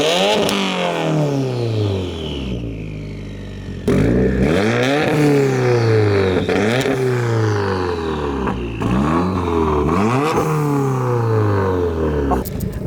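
A 2015 Subaru WRX fitted with a Fujitsubo header and front-mount intercooler revs hard through three loud, close pulls, the exhaust note rising sharply in pitch each time before dropping back, with no talk.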